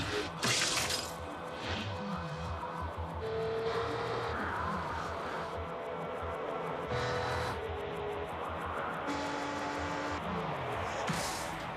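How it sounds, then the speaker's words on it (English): A Lexus IS 350 with 306 horsepower drives at speed, its engine a steady, fairly faint roar with rising tonal sweeps under music-like tones and no talk. "This Lexus IS will attempt to cover the same distance even faster."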